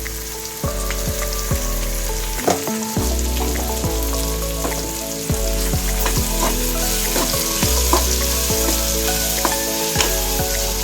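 Capsicum and tomato masala curry with ginger-garlic paste and garam masala frying in a pan, a steady close sizzle with repeated stirring scrapes, no talking.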